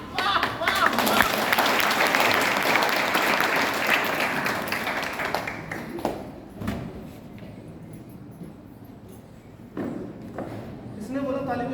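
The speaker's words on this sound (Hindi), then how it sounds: "किसने बोला ताली बजाने के लिए?" An audience at a Hindi theatre play claps loudly, the applause fading after about five seconds into scattered claps and footsteps, with people talking over it.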